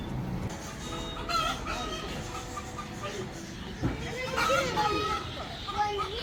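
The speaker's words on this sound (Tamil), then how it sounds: "இது கோழி, அது சேவல்." A hen and a rooster cluck and crow in short bursts at moderate distance while people chat nearby.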